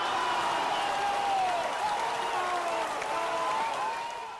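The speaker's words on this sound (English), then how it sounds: "round of applause" A small group applauds during an informal podcast recording, a steady, dense patter of clapping that holds for several seconds with murmured voices mixed in.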